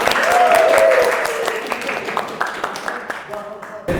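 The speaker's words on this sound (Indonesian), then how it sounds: "Tepuk tangan dulu dong." A university classroom claps before a group presentation: a short burst of applause that thins out and fades, with voices talking over it and a few scattered claps near the end.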